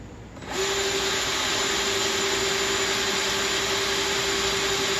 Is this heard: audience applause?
no